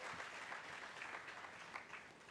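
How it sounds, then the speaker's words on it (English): Brief, fairly faint applause from an audience at a fashion show and style awards ceremony, a soft even patter of clapping hands with distant crowd murmur. "And you can clap for that"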